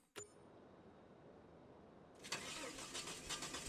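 A truck's engine starts in Farming Simulator 25: a faint click and quiet hum, then the starter catches and the motor settles into a steady, close, rumbling idle.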